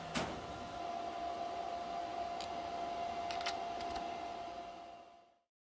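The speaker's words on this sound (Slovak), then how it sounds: "ak sa zváračka zapne, ventilátory sa rozbehnú takmer naplno" Cooling fans of a PATON PSI 250P multifunction welder spin up to nearly full speed, a quiet steady whir with a faint tonal hum that runs evenly for about five seconds and then cuts off.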